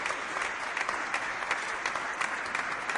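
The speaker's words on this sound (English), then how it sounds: "Let's have thunder of claps for our esteemed institutions and its achievements." Audience applause fills an annual day celebration, steady and sustained clapping from a sizable crowd with no speech over it.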